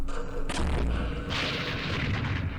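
Artillery fire in the Vietnam war game Campaign Series Vietnam, at the Battle of Pleiku 1968: heavy booms and rumbling blasts roll one into another, loud and dense throughout.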